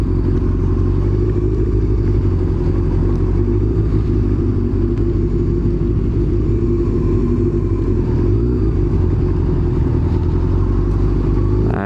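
A Honda CBR motorcycle rides along the road, its engine giving a loud, steady rumble with low throbbing tones that hold throughout, a slight surge near the end, and no talking.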